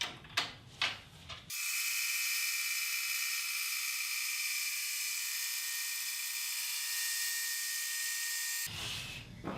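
A band saw slicing a thin wood inlay strip ten thousandths of an inch thick: a few mechanical clicks, then a steady, high whining cut lasting about seven seconds before it stops.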